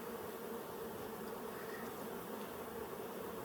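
Honey bees buzz steadily at an open hive during a beekeeper's frame inspection in Colorado, a dense continuous drone from many insects close by with no talk.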